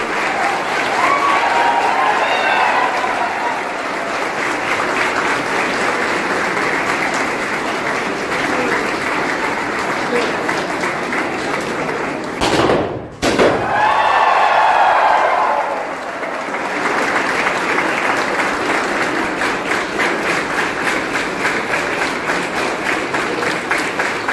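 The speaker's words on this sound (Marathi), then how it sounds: "टाळ्या वाजत राहिल्या पाहिजे" Sustained, loud applause from the audience at a SuperX 2025 Java project competition winners' ceremony, celebrating the Care Nexus healthcare team, with one brief dip in the middle before the clapping resumes at full strength.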